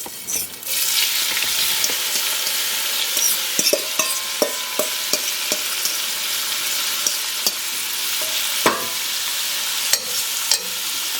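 Shrimp drop into a hot pan with bacon and fry with a loud, bright, steady sizzle, close up, punctuated by several sharp taps and clicks of a utensil against the pan.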